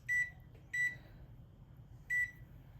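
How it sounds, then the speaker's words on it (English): An oven timer gives three short, clear electronic beeps as it is set, the first two close together and the third after a pause, over a quiet kitchen background. "I'm going to set a timer for 40 minutes."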